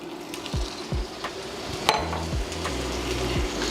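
Andouille sausage sizzles steadily in a hot pot while making chicken and sausage jambalaya, with low clunks and scrapes of a utensil and pot between the hiss.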